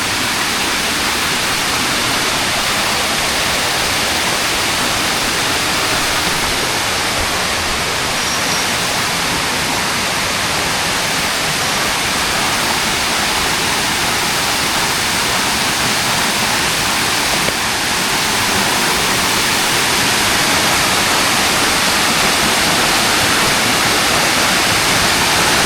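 Waterfall at Gunung Pundak roars continuously, a loud, dense rush of falling water that stays steady throughout with no voices over it.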